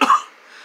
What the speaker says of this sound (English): Got a cough in my chest and runny nose